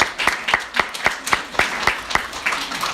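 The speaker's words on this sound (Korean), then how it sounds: "박수를 한번 전해드리고 싶습니다." A church congregation claps steadily with evenly spaced, crisp beats, near and moderately loud, with no talking over it.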